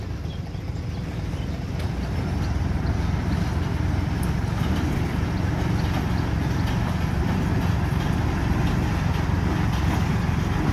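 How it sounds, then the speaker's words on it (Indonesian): A sugar mill locomotive, number 6, hauls empty lorries past a weighing post toward the plantation. Its engine gives a steady, fairly near rumble with a constant rattling drone and no breaks. "di belakang juga sudah ada lokomotif nomor 6 melewati pos timbang itu, akan mengantar lori kosongan ke kebun juga"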